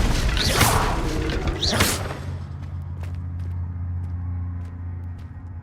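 A Confringo fire spell in the video game Hogwarts Legacy goes off as two quick whooshing bursts, followed by a low lingering rumble and scattered faint clicks.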